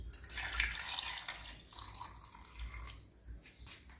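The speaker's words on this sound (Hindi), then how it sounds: "तो मेरा ख्याल है इसमें 1 या आधा गिलास पानी और ऐड कर लेते हैं।" Water poured from a glass into a batch of plum juice, a soft continuous pouring and splashing with gurgling variations, fairly quiet and close, with no talking.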